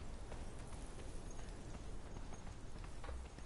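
Horse hooves clip-clop steadily in the video game The Black Keep, a continuous walking rhythm of repeated hoofbeats at moderate loudness with no talking over them.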